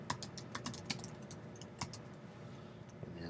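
Quick bursts of keystrokes on a computer keyboard, close and fairly quiet, an irregular run of clicks with short pauses.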